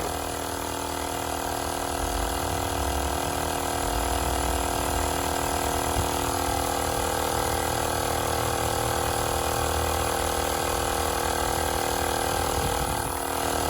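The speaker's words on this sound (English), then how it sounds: "I wonder if it'll pump up a tire from flat, from 0 PSI" Tower Top hand pump inflating a flat truck tire from zero pressure, giving a steady, continuous mechanical ratcheting clatter that runs loud and close without a break and with no voices.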